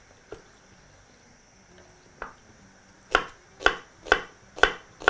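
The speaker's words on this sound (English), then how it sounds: "Proceed to also chop finely the remaining half of your white onion." Knife blade strikes a board while finely chopping half a white onion: a couple of sparse cuts at first, then five sharp, evenly spaced chops close by, with no talking.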